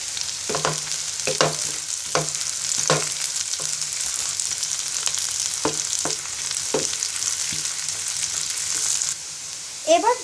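Chopped onion and green chillies fry in a pan with a steady bright sizzle, broken by regular scraping strokes of a spatula about every second, close and fairly loud.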